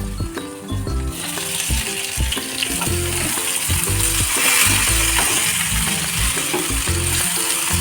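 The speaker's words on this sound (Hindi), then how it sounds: "जो हमें इसे देखते रहना है और चलाते रहना है ताकि ये फ्राई पैन की तली में चिपके ना।" Potatoes and brinjal fry in a frying pan while being stirred, a steady loud sizzle running throughout with repeated scraping and clattering strokes of the stirring spoon against the pan.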